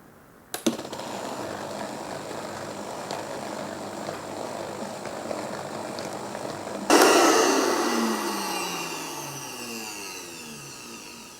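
A blender runs on ingredients with oil, giving a steady, loud motor whir for about six seconds. The pitch then shifts and the sound slowly winds down as the motor stops.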